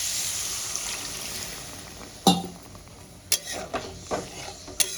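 Broth poured into a pan of potatoes that have been frying, a soft splashing hiss followed by several sharp clinks and scrapes of a utensil against the pan.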